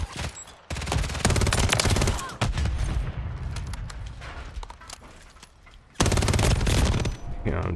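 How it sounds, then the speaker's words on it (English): Rapid bursts of automatic gunfire in a Call of Duty: Modern Warfare III ranked multiplayer match, loud and sustained, with a pause in the middle before another heavy burst near the end. "can't see who's shooting at me"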